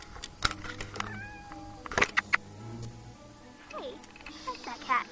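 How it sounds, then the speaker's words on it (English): A cat gives several short meows and a longer wavering cry amid sharp clicks and taps, with voices talking nearby. "Hey, I like that cat."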